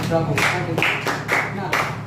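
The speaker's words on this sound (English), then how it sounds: "Everybody, please clap for him." A classroom of students claps for a classmate in a few short, loud bursts of hand claps, with a voice speaking over them.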